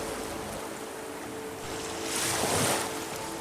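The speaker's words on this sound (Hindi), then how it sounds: "जो चट्टानों तक जाके टकरा रही है।" Ocean waves breaking against rocks along a sandy shore, a steady wash of surf that swells into a louder crash near the end, with wind noise throughout.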